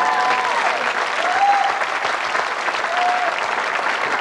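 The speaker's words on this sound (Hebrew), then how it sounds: "תודה על מחיאות הכפיים הספונטניות" Spontaneous audience applause at a public speech: dense, steady clapping from a large crowd holds evenly at full strength throughout, with a voice faintly audible over it.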